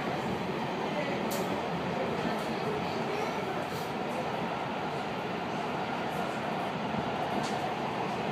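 A MARTA metro train at Lindbergh station rumbles steadily, a dense, continuous roar of wheels and motors, with faint clicks and a voice speaking over it.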